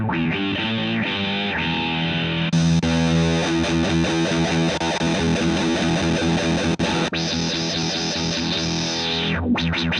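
Vox VT20+ combo guitar amp with octave, Filtron and reverb effects engaged: a loud, continuous distorted electric guitar line with a filtered, sweeping tone and reverb tail, played alone for the whole stretch.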